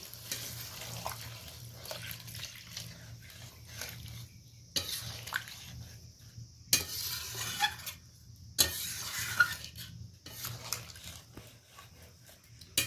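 Freshly extracted coconut milk is poured into a pan of pointed gourd and prawn curry, making a close, splashy liquid sound in several uneven pours with brief quiet gaps between them.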